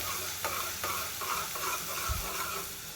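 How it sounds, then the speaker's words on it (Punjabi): Chopped onion for chole sizzles steadily in a pan as a spoon scrapes and stirs it, close up with a constant hiss and no talking. "ਇਹ ਹਲਕਾ ਜਿਹਾ ਬ੍ਰਾਊਨ ਹੋਣ ਦੇਵਾਂਗੇ ਤੇ ਜਦ ਪਿਆਜ਼ ਦੀ ਸ਼ਾਈਨਿੰਗ ਆ ਰਹੀ ਇਹਨੂੰ ਆਪਾਂ ਰੋਸਟ ਕਰਾਂਗੇ"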